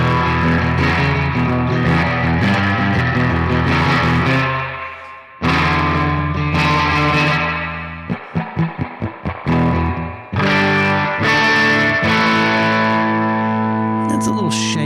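Electric guitar played through a tc electronic Ampworx Combo Deluxe 65' preamp with reverb at 10, sustained chords with long washy tails, a quick run of choppy strums in the middle, then more ringing chords.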